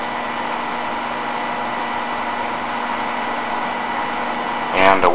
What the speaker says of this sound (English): Away the motor goes again.